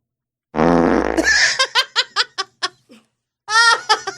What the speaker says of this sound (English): Did he let a fart out?